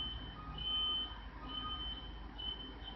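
Steady low truck rumble with a repeating high-pitched reversing beep, fairly distant, no talking.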